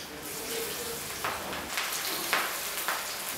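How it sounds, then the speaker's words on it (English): Ivy gourd pieces deep frying in hot oil in a kadai make a steady, dense sizzling hiss, with a few brief brighter bursts of bubbling as the frying goes on. "Now take this tinduras and fry it deeply in the oil."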